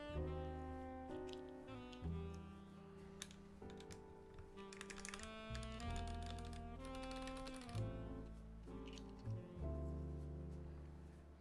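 Typing on a Drop Alt High Profile mechanical keyboard fitted with Gateron Yellow switches, a steady close-up stream of keystrokes with uneven rhythm running alone beneath soft background music, with no talking.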